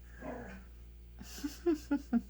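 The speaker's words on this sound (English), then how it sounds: "Do you hear my dog in the background?" A pet dog with the zoomies barks and yips in the background of a room: four short, sharp yelps in quick succession after a brief stretch of quieter sound, moderately close.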